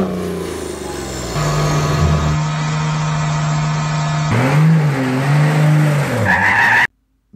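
Cummins diesel truck fitted with compound turbos revving hard, a loud, close roar with rising turbo whistle and spool that builds and shifts pitch over several seconds before cutting off abruptly.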